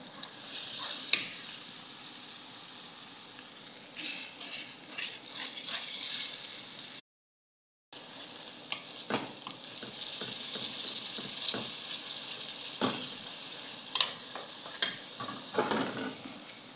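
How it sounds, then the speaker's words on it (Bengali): Spiced masala sautéed and stirred in a pan, sizzling continuously up close with repeated spatula scrapes and knocks, briefly cutting out partway through; no one speaks. "এটাকে ভালো করে কষানো"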